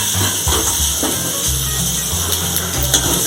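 Chicken adobo sauce boiling in a pan, a loud continuous hiss and sizzle of bubbling liquid close by, with a low hum and light clatter underneath.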